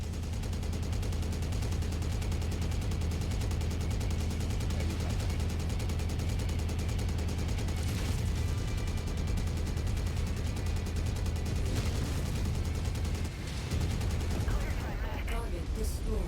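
Dense, continuous mech weapons fire and an LRM missile barrage in the video game MechWarrior 5, a loud steady rumble of rapid shots and explosions throughout, with voices partly under it.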